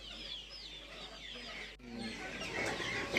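Chickens cluck and chatter at a Balinese market, several birds calling close by over busy background noise, with a speaking voice in the mix.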